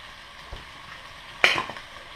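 Anchovy soup with potatoes simmers in a saucepan, a soft steady sizzle and bubbling with a light knock early on and a sharp burst of clatter and spatter midway, probably from something being stirred or added, then fading back to quiet cooking.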